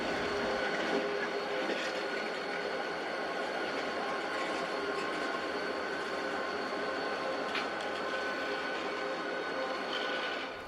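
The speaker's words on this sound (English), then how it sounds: "the Rocky Mountaineer's power detached from the head end of the train and ran round to the back" Rocky Mountaineer locomotives, detached from the head of the train, run round to the back in a steady loud rumble with a faint screech near the start and a hiss around seven seconds, no talk.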